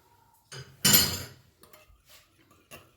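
Spoon stirring ingredients into yogurt in a bowl for an Indian recipe, a few sharp clinks and scrapes, one louder clatter, then softer intermittent taps, close and alone.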